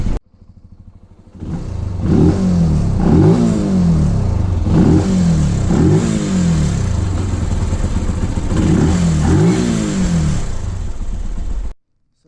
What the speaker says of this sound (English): Just let the bike warm up for a little bit